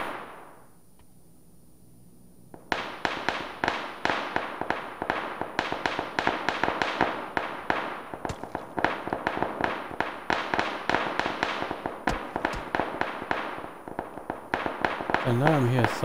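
Gunfire in the PUBG video game: after a quiet stretch, rapid bursts of sharp shots crackle on and on, loud and dense, with a brief voice near the end.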